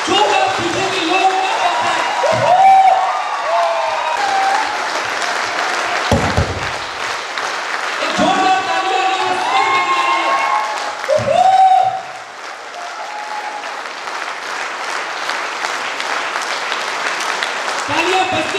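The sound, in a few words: audience applause and cheering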